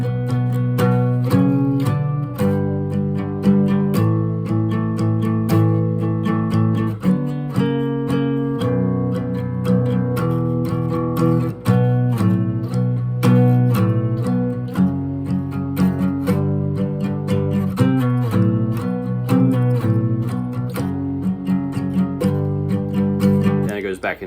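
Electric guitar playing the riff at a slow tempo, sustained chords and picked notes ringing continuously and clearly, with no talking.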